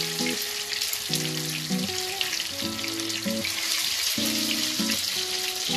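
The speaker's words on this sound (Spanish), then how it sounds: "el huevo se sacude bien y lo metemos al aceite" Egg-coated torrijas fry in hot oil with a steady, close, crackling sizzle, while soft music plays faintly underneath.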